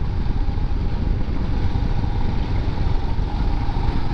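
A 2021 Royal Enfield Himalayan motorcycle cruises in fifth gear around 3000 rpm at about 60 km/h. The engine gives a steady, dense drone under wind rush, loud and continuous, with no talking.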